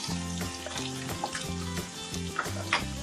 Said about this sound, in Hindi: पैन में हम ऑयल गरम कर लेंगे। इसमें हम जिंजर डालेंगे